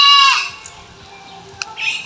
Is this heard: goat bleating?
yes